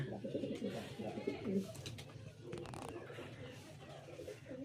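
Mixed-breed female pigeons in a loft coo softly and repeatedly, low burbling calls overlapping at a moderate distance, with faint background noise and possible distant voices.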